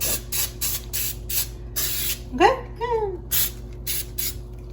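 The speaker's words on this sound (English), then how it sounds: "I'm just going to spray it around here as well because I don't want it to stick" Several short hissing bursts of cooking spray into a baking pan for a pineapple upside-down cake, in a quick, uneven rhythm, close by, with a brief squeaky scrape partway through.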